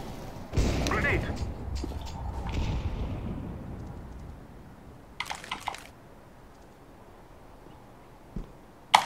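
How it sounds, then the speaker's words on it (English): A grenade explodes in Counter-Strike: Global Offensive, a sharp blast followed by a rumbling low tail, then brief distant pops and clicks of gunfire fading to quiet; a voice speaks briefly near the start. "Grenade."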